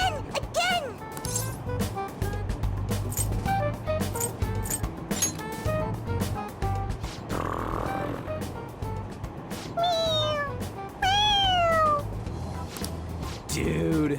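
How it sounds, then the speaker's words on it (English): Repeated cat meows from a squeezable toy cat in the game Persona 5 Royal, short rising-falling cries over a low rumbling background with game music or ambience, fairly quiet. "Yeah, it's just a toy. It meows when you press on its head."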